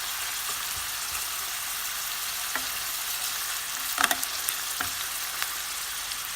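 Chopped onions sizzle steadily in a pan, a soft even hiss with a few light clinks and stirring scrapes, cooking as the base for a salmon gravy, no voices.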